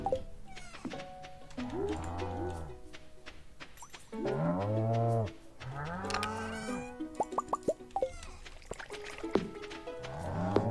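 Cattle lowing on a farm in the Stardew Valley video game, several drawn-out moos rising and falling in turn over about ten seconds, fairly loud and close, mixed with short game plops and clicks and no talk.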